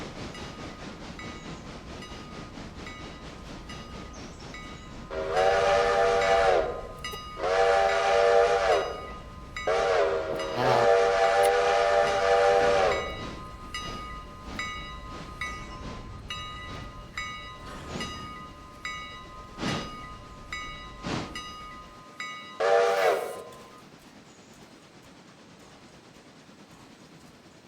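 A locomotive in the Railroader game sounds several loud whistle blasts in bursts while passing, followed by rhythmic clacking of wheels over rail joints and one last whistle before it fades; a voice briefly exclaims.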